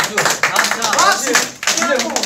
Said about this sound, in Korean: 지금 들리는 박수! 박수!